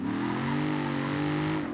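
Ford Mustang engine in BeamNG.drive, a steady loud droning rev held for under two seconds with no talking.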